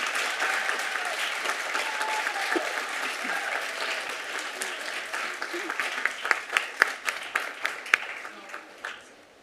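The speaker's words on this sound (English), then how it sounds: "You can clap" Audience at a Costa Mesa city council meeting claps in a full burst of applause that gradually thins into scattered, distinct single claps before fading out.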